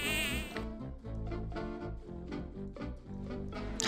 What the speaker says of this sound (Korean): 왜 모기가 왜 이렇게 많죠?